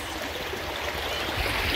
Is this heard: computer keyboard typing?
no